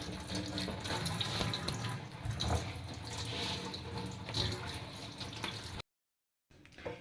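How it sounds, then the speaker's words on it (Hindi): Tap water runs steadily into a sink as fresh oranges are washed by hand, a continuous broadband rush with small splashing changes, then a brief cutoff near the end. "ऐसे मैंने सारे वॉश कर लिए।"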